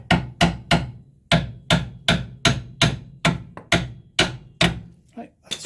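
A hammer taps a steering or suspension taper back into its seat on a Rover Mini Cooper during reassembly, with about a dozen sharp metallic strikes in a steady rhythm, close and fairly loud.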